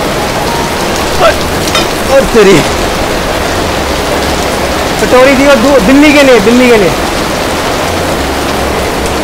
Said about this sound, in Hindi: दोस्तों भयानक बारिश हो रही है